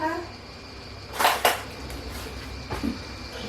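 Brief metallic clinks of a spoon against dishes as it is fetched in a home kitchen, two sharp clatters close together then a softer one, under quiet room noise.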